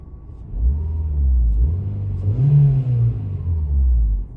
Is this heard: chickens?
no